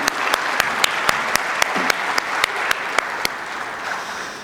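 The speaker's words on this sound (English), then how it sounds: "Round of applause to all of you." Gala audience applause at a charity dinner, a steady wash of many hands clapping with sharp, regularly spaced loud claps standing out near the microphone throughout.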